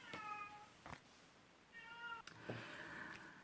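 A house cat meows in two or three short, clear tonal calls spaced across a few seconds, close to the microphone in a quiet room with light handling noise between calls.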